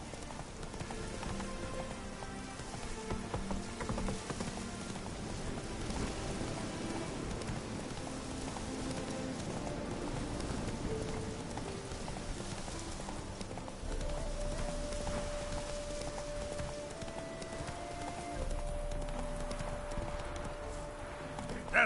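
Horse hooves clip-clop steadily from Roach, Geralt's horse in The Witcher 3, trotting through Oxenfurt with a rain-like patter and game music beneath, continuous for the whole stretch.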